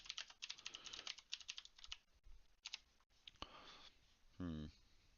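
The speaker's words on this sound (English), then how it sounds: "Oh man, I can't type at all." Quick, quiet clatter of typing on a computer keyboard during an online card game, bursts of keystrokes followed by a brief voice.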